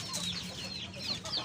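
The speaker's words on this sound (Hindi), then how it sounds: "ये भी शामू का जोड़ा है जी, मुर्गी और मुर्गा दोनों।" Shamo breed rooster and hen clucking in a farm pen, several soft, brief clucks scattered over steady low background noise, with no talk.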